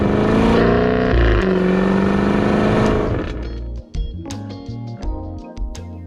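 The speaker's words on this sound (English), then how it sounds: "it has an exhaust note like it's shooting flames out of its quad tailpipes." A 2022 Jaguar F-Type R 575 AWD with quad tailpipes, its exhaust roaring loud and close under hard throttle, then lifting off into burbling, crackling overrun pops for the last few seconds.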